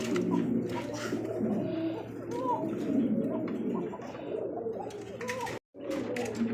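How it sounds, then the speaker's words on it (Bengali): Pigeons coo in soft, repeated rolling calls throughout, with a female pigeon among them and a low murmur of other birds, broken by one brief dropout near the end. "এটা হচ্ছে মাদি কবুতর"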